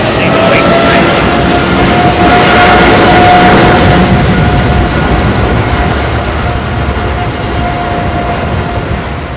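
Heavy jet airliner departing runway 27R at London Heathrow Airport, a loud, sustained broadband engine roar that holds steady for several seconds and then slowly eases as it climbs away.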